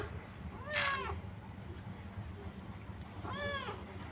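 A cat meows twice, well spaced, each call clear and fairly close over a low background hum.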